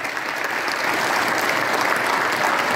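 Loud, sustained applause from an audience in a legislative assembly hall, steady dense clapping throughout with no voices standing out.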